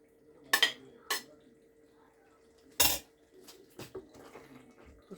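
A spoon serving cooked gizzard sauce and rice: a few sharp metallic clanks against a pot, spaced apart, followed by softer scraping and light knocks.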